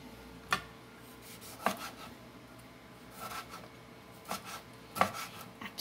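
A knife chops food on a board for tomato sauce. About five soft, spaced thuds sound close and fairly quiet over a low background hum, with no one talking.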